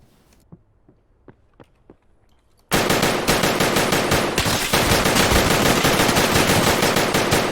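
Gunfire in Escape from Tarkov on the Reserve map, where a few soft thumps and footsteps give way to a loud, sustained burst of rapid automatic fire that continues to the end.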